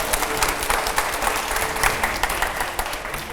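Studio audience applause during a Hindi-language interview show, steady dense clapping from a crowd throughout, fairly loud and close with no talk over it.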